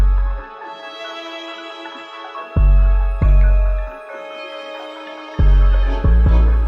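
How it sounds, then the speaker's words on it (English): Deep 808 bass notes boom under a looping melodic synth line, with gliding slide notes bending the pitch toward the end of the phrase, loud and close with no voices. "But to make it sound a little bit more exciting, I just added these slide notes at the end."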